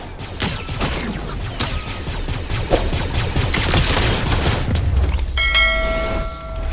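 Blaster gunfire in the Fortnite video game, a dense, loud crackling volley of rapid shots and impacts that builds into a rumbling boom, followed by a ringing metallic chime near the end.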